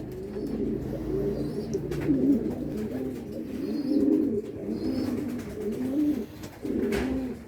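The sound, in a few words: racing pigeon cooing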